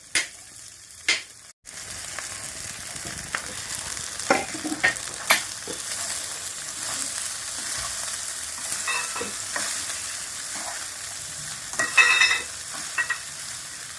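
Cooked rice being stirred into a sizzling frying pan with fried seasonings for lemon rice: scraping and clinking strokes of a spoon at irregular intervals over a steady frying sizzle, close up, no talk.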